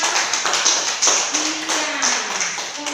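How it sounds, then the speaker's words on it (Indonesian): A class of students claps in rhythmic bursts for group 3 in a classroom lesson, a steady patter of hand taps rising and falling over a few seconds, fairly close and clear, with no speech. "Tepuk tangan untuk kelompok 3"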